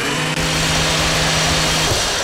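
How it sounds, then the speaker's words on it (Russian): Chainsaw in Garry's Mod revving loudly and continuously, a droning buzz held close with no break for the full stretch. "Ай, моя бензопила!"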